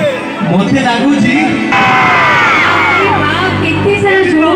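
A large crowd cheers, whoops and shouts at the 47th annual function of S.N. College, Rajkanika, a dense, loud roar of young voices that swells and holds steady throughout.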